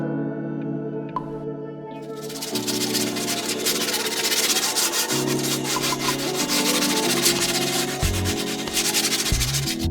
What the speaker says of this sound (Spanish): lo voy a lijar